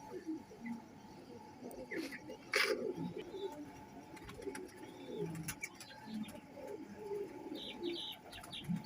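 Sialkoti and Teddy pigeons in a pair coo softly and repeatedly, with small chirps, under a voice that talks throughout in a quiet room.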